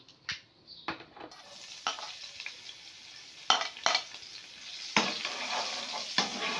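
Vegetables and chillies frying in a spoonful of oil in a pan, with scattered stirring scrapes and utensil clinks over a steady close sizzle.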